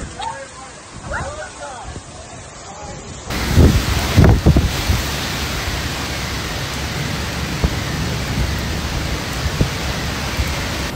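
Severe storm on the Gold Coast, Queensland, with heavy rain and gusting wind: a quieter start gives way at about three seconds to a loud, steady roar of downpour and wind, with a few sharp bursts early on.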